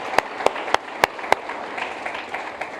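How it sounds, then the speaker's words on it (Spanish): A church congregation claps in gratitude: several sharp, evenly spaced claps ring out close by, then give way to softer, scattered applause. "¿Pueden darle un aplauso de gratitud?"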